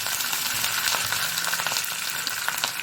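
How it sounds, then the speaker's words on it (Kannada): Mustard seeds and curry leaves for a Mangalorean koddel gravy crackle and sizzle loudly in hot coconut oil, close and continuous, with rapid small pops throughout. "ಸಾಸಿವೆ ಉರಿಯುವಾಗ"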